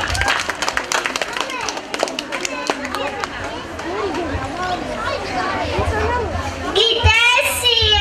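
Applause and clapping from a group of children at a school or kindergarten celebration in Kajaran, over a busy background of child chatter and movement, growing louder toward the end.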